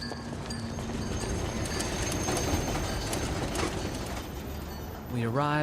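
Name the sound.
tram ride into the city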